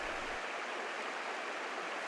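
Broad, steady rush of a flowing trout stream, the South Branch Oconto River, running through national forest land, close and continuous with no other sounds.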